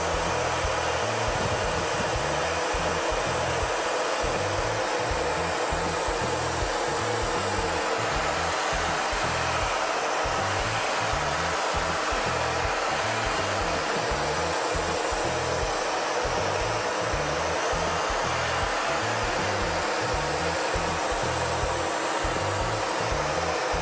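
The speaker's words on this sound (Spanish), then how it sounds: "yo voy a darle un poquito de secador para que nos deje trabajar mejor" A hair dryer blows steadily and loudly on a Quito-style craft piece, a continuous close whoosh with no talk over it.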